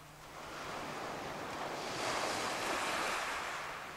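Calm ocean waves wash onto a beach along the Strait of Juan de Fuca at French Beach on Vancouver Island, a steady broad surf hiss that swells gently midway, with light wind noise and no voices.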